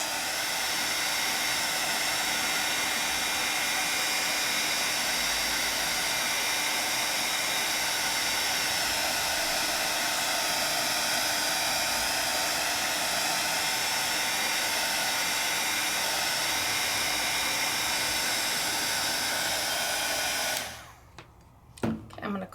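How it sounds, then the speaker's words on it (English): A heat embossing tool roars in a constant, even hiss over a craft project, close and alone for about twenty seconds before cutting off abruptly, followed by a few small handling knocks. "as I see it turning, I'm moving my heat tool"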